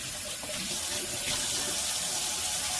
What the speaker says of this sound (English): Rinse the mat, scrub again. I'm rinsing the mat again.